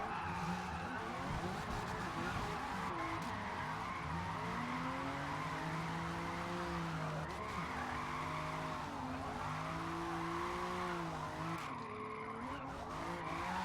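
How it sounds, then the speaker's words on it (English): Drift car in a video game sliding with the handbrake pulled, its tires skidding and squealing steadily for the whole stretch under engine drone, loud and continuous. "rip the handbrake and then hope that the car continues to do what it's doing"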